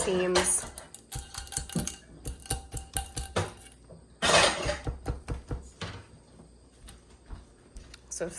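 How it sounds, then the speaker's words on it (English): Potatoes going into a smaller pot for a pork chop casserole, clattering against metal and utensils in a string of sharp clinks and knocks with a louder tumble midway, close up in a quiet kitchen. "So Harper's just adding those potatoes into a smaller pot."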